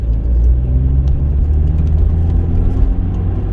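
Rover car engine pulling steadily in second gear at just over 1000 RPM, a close, continuous low rumble and hum with no voices over it.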